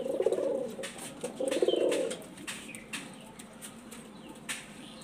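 Released pigeons coo in two strong, close phrases, followed by repeated sharp wing flaps and rustling as the birds take off.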